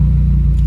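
Subaru WRX with the FA20DIT turbo engine running in limp mode with a cylinder misfire, heard as a steady low, loud engine drone and rumble with a strong low hum, no voices.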